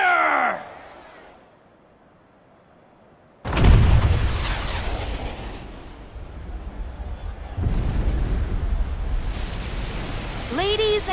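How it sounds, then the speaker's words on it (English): A massive cannon blast fires from the Junon cannon in the video game Final Fantasy VII Rebirth, a sudden deep booming explosion with a long rumbling tail and a second surge of roar, following a brief voice. "with a single blast of Junon's famous cannon, Rufus Shinra has announced his..."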